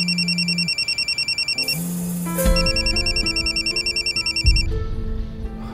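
A telephone rings in repeated electronic trills, pulsing tones with brief gaps, loud and close, while a lower musical tone and soft thuds sound underneath.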